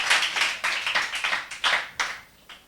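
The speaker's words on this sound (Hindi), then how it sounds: "इनके लिए भरपूर तालियां होनी चाहिए ताकि इनकी हौसला अफजाई रहे" A small audience at a question-and-answer quiz claps for a correct answer, giving a short run of uneven, close hand-claps that fade out within a few seconds.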